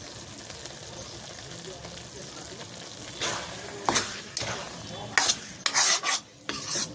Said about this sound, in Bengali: ভালো করে তরকারিতে একটু মিশিয়ে দিচ্ছি